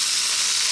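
Rice frying in a wok for mushroom fried rice gives a loud, continuous bright sizzle, close and steady with no talking over it.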